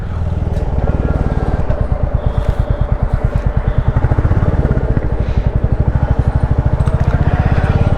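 A motorcycle engine runs loud and close with a steady pulsing exhaust beat that quickens and then settles as the rider shifts gears, with a voice faintly talking underneath.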